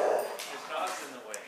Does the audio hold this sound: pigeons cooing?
no